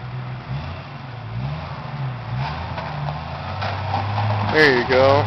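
An off-road vehicle engine rumbles and revs as it climbs a rocky hill, rising and falling close by, while voices talk and call out over it.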